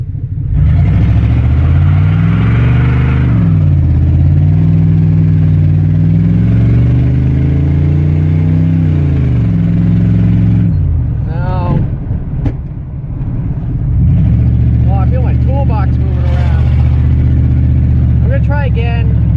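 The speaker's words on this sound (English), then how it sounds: "I'm gonna go somewhere else and do the fucking rolling burnout" A car engine revs hard and steadily through a rolling burnout, holding high and changing pitch for about ten seconds, then dropping and climbing again. Voices speak partway through and near the end.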